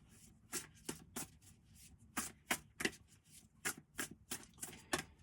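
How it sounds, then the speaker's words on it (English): A deck of oracle cards being shuffled by hand: quiet, close riffling bursts in an irregular rhythm, about a dozen short flutters with brief pauses between, and no talk. "Let's just pull 2 cards from this deck."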